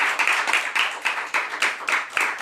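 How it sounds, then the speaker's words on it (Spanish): A church congregation claps in steady unison during a service, with about a dozen sharp, evenly spaced claps in a quick rhythmic beat, close and loud, and no talking. "Dale una prenda de palmas al Señor."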